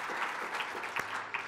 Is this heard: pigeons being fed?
no